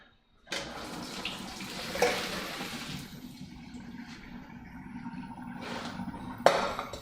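Water from boiled potatoes pours into a colander in a home kitchen, a steady rushing splash with a couple of louder gushes and a clink near the end, heard close with no talking.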